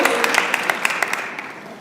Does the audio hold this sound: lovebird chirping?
no